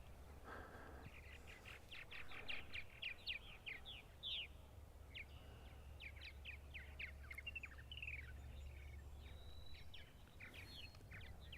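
Purple martins chirp around a neighbor's martin house on eastern Long Island, a rapid series of bright twittering calls in bursts over a steady low hum, fairly faint and distant.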